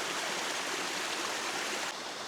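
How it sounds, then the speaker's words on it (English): A small waterfall spilling over massive green rocks in a steep New Zealand river, a steady, dense rushing of water heard close and loud throughout with no break. "Little waterfall over one of these massive green rocks."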